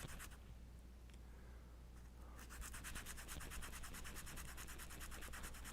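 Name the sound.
sanding dirt off an eraser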